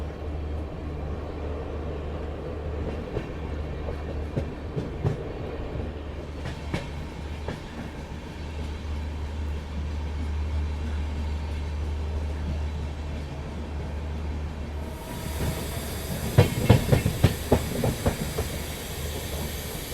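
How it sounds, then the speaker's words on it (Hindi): The Bhopal Shatabdi Express rumbles steadily along the tracks nearing Mathura Junction with rhythmic clatter, growing louder and hissing toward the end as wheels clack over joints. "फिलहाल अपनी शताब्दी एक्सप्रेस पहुंच रही है मथुरा जंक्शन रेलवे स्टेशन"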